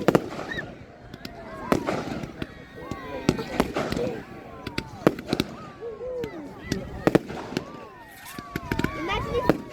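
Fireworks bursting at a public display, with repeated loud bangs and crackles over a steady roar of crowd chatter, including children's voices, throughout.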